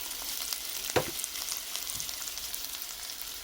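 Onion and garlic sauté over medium heat with pepper, salt and parsley, producing a soft, steady sizzle with one sharp stirring knock near the start.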